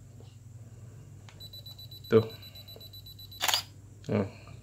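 Canon 450D DSLR self-timer beeping faintly in a quiet room, followed by a few short sharp shutter-release clacks spaced about a second apart, with a voice talking briefly.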